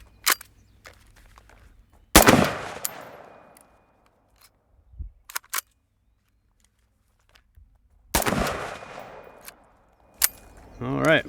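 Unsuppressed 5.56 rifle with 62-grain ammunition fired from a LAW Tactical ARIC-equipped MCX, two sharp loud single shots several seconds apart, each with a ringing decay, amid quieter handling clicks.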